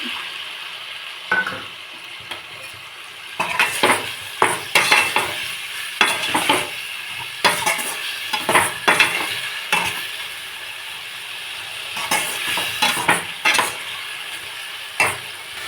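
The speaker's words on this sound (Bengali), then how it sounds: "একটুখানি জল দিব, তারপরে ঝিঙ্গাগুলো দিয়ে দেবো এটাতে" Water and ridge gourd go into a pan of sizzling spice paste, with a constant frying hiss under repeated metallic scrapes and clatter of a spoon against the pan.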